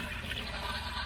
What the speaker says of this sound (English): This has got electric flush